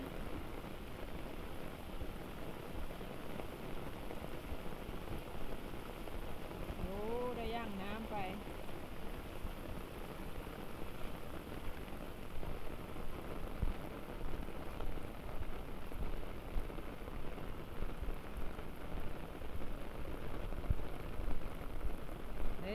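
Heavy rain pouring steadily across Laos, a dense continuous hiss of drops striking surfaces, with a brief faint tonal sound partway through and no speech.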